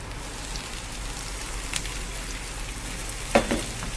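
Steady sizzling of tomatoes and onions sautéing in a pan, a continuous crackly hiss with a brief clatter of stirring near the end.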